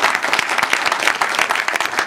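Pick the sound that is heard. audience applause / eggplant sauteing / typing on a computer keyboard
audience applause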